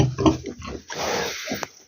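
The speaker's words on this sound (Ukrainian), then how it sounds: "Зараз глянемо на поросяток." Piglets grunt and snuffle in a pig shed among sows and growing pigs, a cluster of close, rough low grunts with a brief louder squeal near the end.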